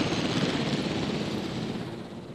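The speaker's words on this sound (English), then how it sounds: "The helicopter's almost collided." A helicopter flies in the dinosaur park game Jurassic World Evolution, its broad whooshing rotor and engine roar steady and close for a couple of seconds with no talking.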